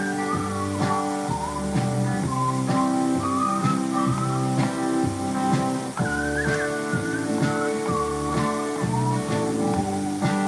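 A person whistles a cheery, bouncy tune over a backing of steady rhythmic music, the melody clear and prominent throughout.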